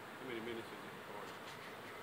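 Steady insect buzzing from a swarm of honey bees, a continuous hum that swells slightly early on and persists at moderate level throughout.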